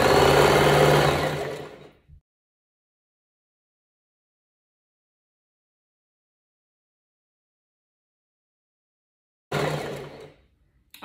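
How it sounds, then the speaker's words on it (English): A sewing machine sews a straight stitch on fabric for tutu socks, a close mechanical whir for about two seconds, then long silence, then another short run near the end. "then I'm going to sew straight stitch"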